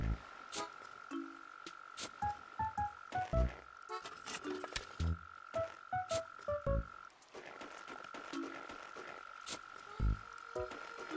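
Crickets chirp in Animal Crossing: City Folk as repeated short, sharp insect calls in an irregular rhythm. Clicks and soft tonal blips from the game are mixed in.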